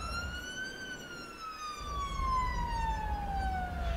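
Police car sirens in the Cities Skylines game wail steadily with a slow falling pitch sweep, loud and continuous over a low rumble of city traffic, with no talking.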